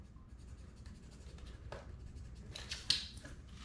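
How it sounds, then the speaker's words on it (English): A pencil scratches a mark onto a peel-and-stick vinyl floor tile, giving quiet, close scraping strokes that build to a brief sharper scratch near the end, no talking. "You can take a pencil and you can make a mark on these"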